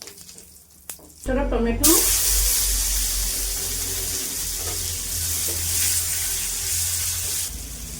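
Loud sizzle as dried red chillies, five-spice seeds and small tomatoes hit hot oil in a pan, a sudden burst of frying that stays steady and close, with a brief spoken word just before.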